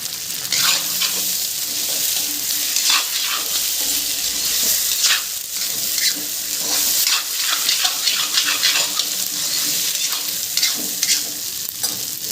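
A paste of ground cumin and black pepper fries in a pan with pork and lentils, giving a steady close sizzle broken by repeated scraping stirs.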